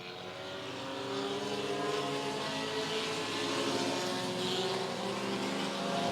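Stock compact race cars circle the Mt. Lawn Speedway oval, a steady blended engine roar that swells as the pack passes, faintly distant and continuous without talk.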